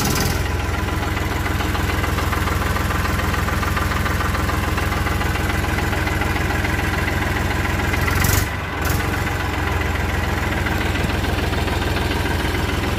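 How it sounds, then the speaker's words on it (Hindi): An Eicher 333 Super Plus tractor's diesel engine idles steadily with a deep, rumbling throb and a faint knock, briefly shifting in tone midway before settling back. "आगे मैं आपको ट्रैक्टर स्टार्ट करके बताऊंगा, उसकी आवाज़ कैसी है"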